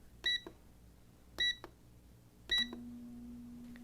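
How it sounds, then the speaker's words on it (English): An air fryer's control panel beeps three times in evenly spaced bright electronic chirps as its timer is set for chicken, followed by a low steady hum as the appliance starts running. "we place the chicken in an air fryer and set the timer"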